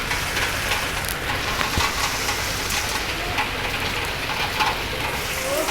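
Rain falls steadily as a dense, even patter close by, with a few louder drips standing out through the shower.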